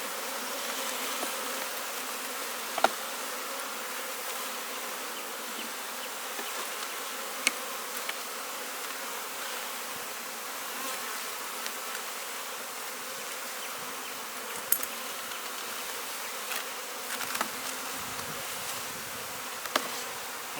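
Honeybees at an open beehive during requeening and hive splitting give a continuous, even buzzing hum close by, with a few faint clicks and knocks from handling the hive frames.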